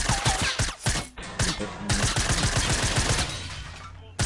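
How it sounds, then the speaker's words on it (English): Rapid bursts of gunfire in Fortnite crackle in quick succession, some volleys overlapping, loud and sharp, followed by a brief quieter stretch before another shot. "I heard gunshots"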